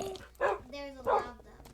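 Dogs in Minecraft bark and yip in quick succession, with two sharp barks between a thin whine. The sounds are close and fairly loud over a low background.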